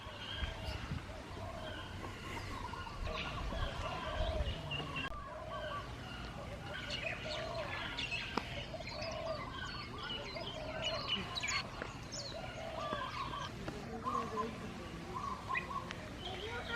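Birdsong and chirping from a myna perched overhead in Hilo, Hawaii, repeating over steady outdoor ambience, with people talking nearby throughout.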